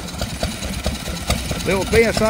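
A small Lister stationary engine drives a domestic water pump at a classic vehicle and engine rally, chugging with a steady, regular beat close by, while a voice speaks over the end.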